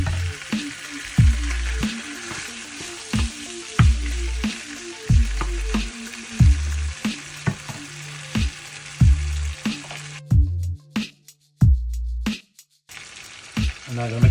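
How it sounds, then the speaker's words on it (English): Chicken browning in a pot sizzles and fries loudly, interrupted by regular stirring thumps and scrapes that come every second or so. "until the chicken is more browned and thoroughly cooked"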